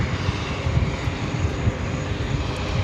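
Airliner engines at New York JFK airport, a steady broad roar heard at a distance, continuous and unbroken through the short stretch, with no voices.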